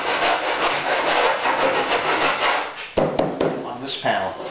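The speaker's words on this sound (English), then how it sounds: "I can feel the rasp moving in my hands as the edge falls away." A rasp filing along the edge of a boat hull panel, steady close rasping strokes that rub continuously, then break into shorter scraping strokes near the end.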